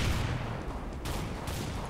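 Tech-9 pistol fire in the video game CS:GO, a dense loud burst of gunfire sounds filling the whole moment with no talk.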